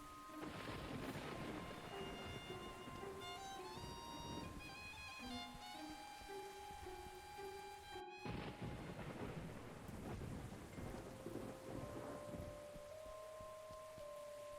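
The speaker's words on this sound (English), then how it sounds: "All alone in the rain." Rain pours steadily in Gibbous: A Cthulhu Adventure as thunder rumbles and cracks, with a sharp clap near the middle, all beneath sustained tonal music that carries on over the storm.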